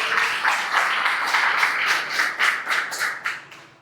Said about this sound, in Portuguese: Quem crê aí, aplauda o Senhor bem forte